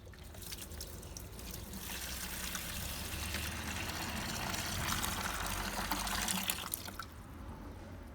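Water pours steadily into a measuring jug for a self-leveling concrete mix, a continuous close rushing splash that swells slightly before tapering off near the end.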